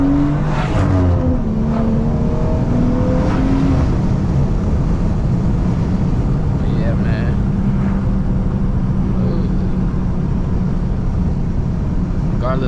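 A loud modified BMW B58 engine of about 500 hp accelerates close by, rising tones in the first few seconds, then a heavy steady rumble and roar that fades slightly.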